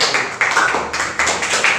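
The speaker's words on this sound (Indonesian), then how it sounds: "Berikan tepuk tangan untuk kelompok 1." Classroom applause for a student group: a brief burst of dense, bright hand claps from several people, steady and close, with no talk.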